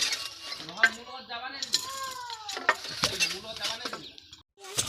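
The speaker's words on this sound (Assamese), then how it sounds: "ঐ মায়ে তাঁত বৈছে।" A handloom weaving at home clacks and rattles in short mechanical bursts, mixed with nearby voices talking over it.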